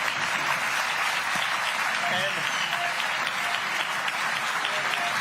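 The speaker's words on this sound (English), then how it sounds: "Please give them a round of applause." Sustained applause from a debate audience honoring three DC mayoral candidates, dense and steady throughout, with a brief voice speaking over it.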